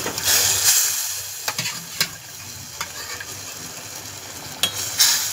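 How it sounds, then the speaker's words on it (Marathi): Chicken pieces dropped into a simmering masala in a pan for a Maharashtrian chicken curry, giving a soft sizzle with sharp clatters of a spoon on metal, no talking. "आता आपण त्यामध्ये हे चिकन ॲड करू।"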